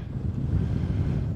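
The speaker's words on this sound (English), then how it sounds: "It's pretty windy" Wind buffeting across the open Kinder Scout plateau, a low steady rushing gust pressing on the microphone, moderately loud and continuous for a short moment with no voices.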